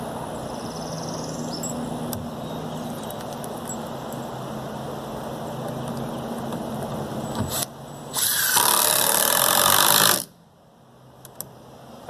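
Power drill driving screws at an angle into wood while building a hay bale target, a steady mechanical whir with a short loud burst of screwing near the end, then quiet.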